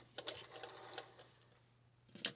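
A sewing machine stitching a tiny bit of fabric, a quiet close mechanical whir in short bursts with rapid ticking, pausing midway before a brief final clatter.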